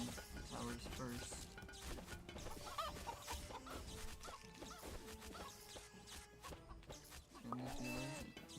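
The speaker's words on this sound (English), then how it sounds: "Turn these healers into chickens." Cartoonish chicken clucks pop up repeatedly amid busy game effects and music in the tower-defense game Cursed Treasure 2, with a steady stream of overlapping in-game sounds.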